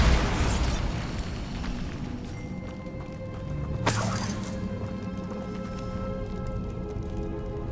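A Bombarda spell blast in Hogwarts Legacy: a dense, loud explosive roar with a sharp burst near the middle, rumbling debris and game effects filling the whole stretch.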